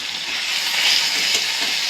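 Food frying hard in oil in a pan until red and crisp, a steady close sizzle with bright crackling spatter throughout, no voices.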